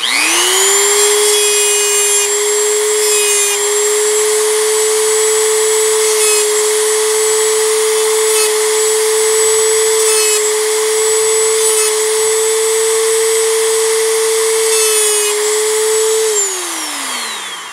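A power carving tool runs with a steady high-pitched whine as a wooden acorn is sanded on every edge, the motor holding constant for about sixteen seconds before spinning down at the end.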